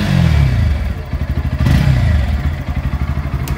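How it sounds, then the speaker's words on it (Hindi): A 2023 Bajaj Pulsar NS 160 motorcycle with an underbelly exhaust idles and is blipped up close, a loud, throbbing low exhaust note that pulses rapidly, rises and settles back over a few seconds. "इसका एग्जॉस्ट नोट आप यहाँ पे सुन पा रहे हो।"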